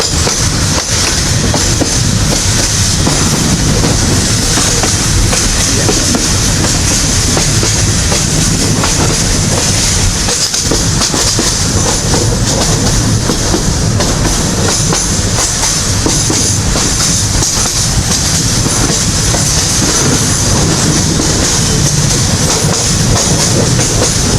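Inside a carriage of the Udayan Express on the Chattogram–Sylhet line, a continuous loud rolling roar with clickety-clack wheel beats and faint squeal, sustained throughout with no talk.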